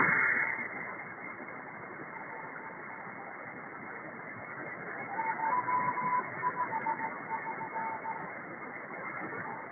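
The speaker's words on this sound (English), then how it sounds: "So we hear the Morse code coming out of Moscow, Russia. It's not very strong, but it's here." A weak shortwave Morse code signal from Moscow, Russia, on about 11144 kHz, with faint on-off tones in rhythmic bursts buried beneath loud, constant radio static and hiss.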